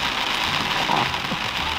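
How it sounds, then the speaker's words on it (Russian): Heavy rain pours down steadily during a tropical storm in Florida, a dense, continuous hiss of downpour close by with no voices. "И пошел такой ливенюшка."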